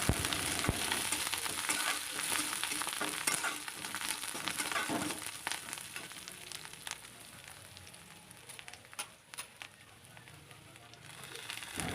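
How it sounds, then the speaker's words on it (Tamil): Three sprigs of curry leaves sauté in a pan with other ingredients. A steady, close sizzle with scattered sharp crackles and pops runs throughout, with no talking. "மூணு கொத்து கருவேப்பிலை சேர்த்து அதையும் நல்லா வதக்கிக்கலாம்"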